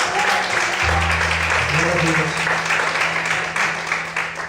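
A church congregation claps steadily and loudly throughout, with music or a voice humming underneath.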